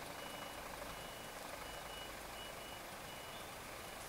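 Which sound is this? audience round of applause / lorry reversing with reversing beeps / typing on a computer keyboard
lorry reversing with reversing beeps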